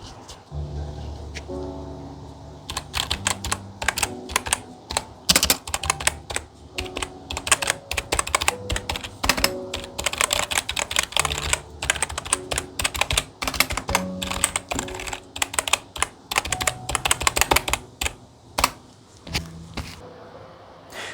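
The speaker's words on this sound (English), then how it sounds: "I really love typing on this keyboard" Steady typing on a computer keyboard, close up, with crisp key clicks in quick irregular bursts and brief pauses, no talking.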